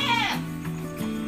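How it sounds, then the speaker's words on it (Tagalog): A goat bleats at a backyard farm, giving one wavering, close and loud cry followed by shorter, lower bleats, with faint background noise. "dahil may bago tayong alaga na kambing"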